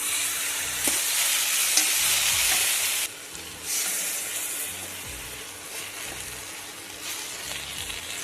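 Steady sizzling and frying in a pan as a paste of mustard seeds, peanuts and garlic fries, with a brief drop in intensity midway before the hiss returns, plus occasional light clinks and stirring.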